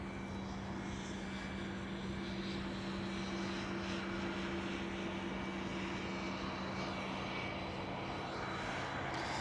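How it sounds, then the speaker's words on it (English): A Delta Airlines Airbus A330 airliner at Schiphol Amsterdam gives a steady, continuous engine hum with clear droning tones. It is moderately distant and even throughout, with no talking. "Looks like we do have another Delta Airlines A330 over there."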